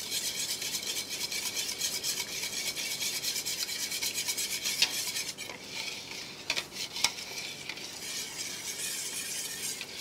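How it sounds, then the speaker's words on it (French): A pastry chef's whisk turns gently through melted Valrhona chocolate, binding it into a smooth ganache emulsion; a steady, close scraping and swishing rub continues throughout, with a few brief clinks against the bowl and no talking. "au centre, je commence à tourner légèrement avec le fouet pour commencer à lier les matières et à donner une émulsion à ce mélange"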